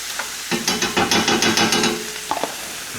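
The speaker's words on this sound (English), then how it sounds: "Put our sauce in there. Stir that around." A spoon stirs sauce around a hot pan for Mexican street corn, with a quick series of close scraping strokes and a soft sizzle beneath, then a couple of brief taps near the end.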